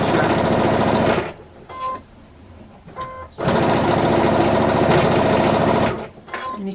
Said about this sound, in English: And you can hear all of those seams there as the needle goes over it.